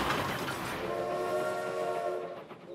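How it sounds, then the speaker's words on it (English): A cartoon train rumbles along its track with a sustained, loud horn blaring over the steady rolling noise, fading slightly at the end. "The train. It won't stop."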